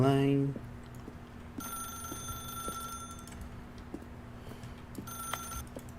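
A telephone rings in The Stanley Parable, a steady repeating electronic ring tone with bright sustained tones recurring over a low hum, fairly close and clear, with a brief voice at the very start.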